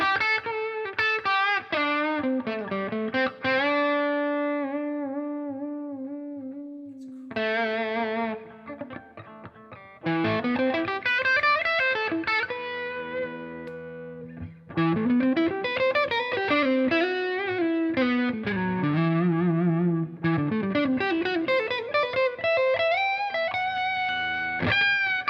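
Electric guitar played through an Ibanez TS808 Tube Screamer overdrive pedal, with smooth, creamy overdriven notes and chords. Sustained phrases are broken by short pauses, and the tone stays loud and close with no talking.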